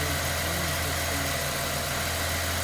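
A 2008 Ford Territory engine idling, a steady low hum with a constant droning pitch, close and even throughout with no voices.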